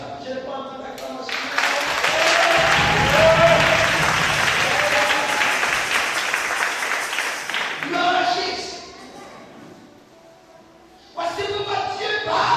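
Applause and cheering from a church congregation during a sermon, a sustained loud wash of clapping and voices that swells, fades near the end, then returns as talk resumes.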